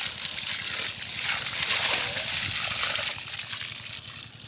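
Water poured from buckets in a heavy, continuous gush over fish, splashing and sloshing loudly for several seconds, swelling slightly toward the middle.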